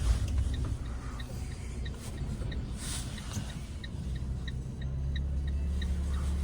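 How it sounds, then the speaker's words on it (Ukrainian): A car with a 1.2-litre naturally aspirated petrol engine drives along with a steady low engine and road drone inside the cabin and a faint, regular ticking over it; no one speaks. "атмосферний бензиновий двигун, який дуже легко буде вам і класно їздити"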